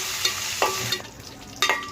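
Cumin and fenugreek seeds sizzle in a hot pan, a soft steady frying hiss broken by a few quick stirring scrapes, close and fairly quiet.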